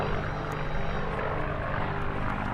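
A WWII-era fighter aircraft flying a four-point hesitation roll at an airshow, a loud steady propeller-engine drone heard from the ground, constant throughout with no talk.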